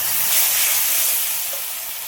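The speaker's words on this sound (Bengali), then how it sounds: "অল্প করে জল দিয়ে দিলাম।" Water goes into a hot pan of ridge gourd curry in a home kitchen, and a loud, steady hiss of steam and sizzling rises at once, then slowly eases off over a couple of seconds.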